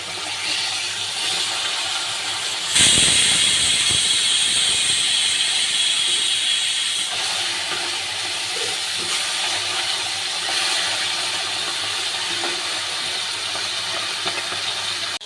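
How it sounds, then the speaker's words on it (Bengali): Pomfret fish pieces dropped one by one into hot oil, with a sudden loud hissing sizzle that bursts in and then settles into a steady bubbling fry throughout. "এটা গরম হয়ে গেছে, মাছগুলো আমি এক এক করে ছেড়ে দেবো।"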